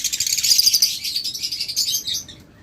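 High-mutation pet birds kept for sale chirp in a dense, continuous bright twittering, close and loud, fading slightly toward the end, with no voices.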